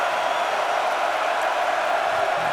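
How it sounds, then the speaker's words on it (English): Steady roar of a large stadium crowd at the 2022 Gator Bowl college football game between Notre Dame and South Carolina, a dense, continuous wash of cheering with no clear breaks. "Check the crowd noise. It's like a home game for South Carolina."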